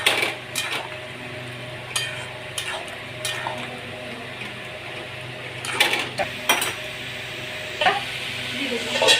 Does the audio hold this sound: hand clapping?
no